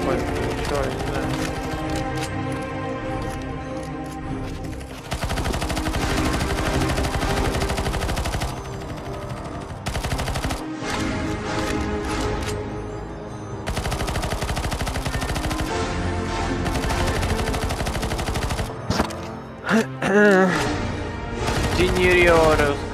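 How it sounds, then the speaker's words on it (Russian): Rapid automatic gunfire from a Counter-Strike co-op map set in a winter castle, sustained bursts loud throughout with brief pauses, mixed with game effects while players talk over it. "А, это я выстрелил в них"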